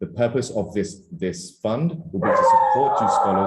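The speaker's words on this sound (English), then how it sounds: "sorry for the dog barking" A dog barks and yips in the background during an online internship prep session, its sharp, repeated bursts rising and sustained near the end beneath a person speaking steadily over it.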